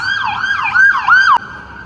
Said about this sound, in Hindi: बाकी एम्बुलेंस।